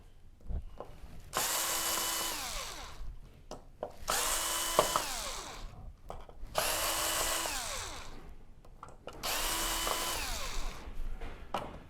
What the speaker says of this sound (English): Now we're going to get these 4 screws out